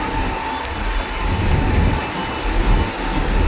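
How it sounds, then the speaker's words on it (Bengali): A train rumbles past with a steady low roar and rolling rattle, continuous throughout with no talking. "আর এটা ট্রেন।"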